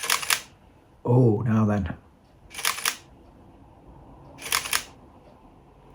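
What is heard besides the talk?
A7 camera shutter firing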